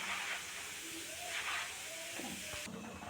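Roasted gram dal (pottukadalai) frying in hot oil on a ladle, a steady broad hiss of bubbling oil running throughout, close and moderately loud, with a brief faint scrape near the end and no talking.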